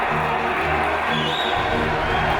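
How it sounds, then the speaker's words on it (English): A wrestling crowd roars and cheers inside Hull City Hall during a British wrestling show, a loud, continuous wash of many voices filling the whole moment. "Listen to this crowd, Dave!"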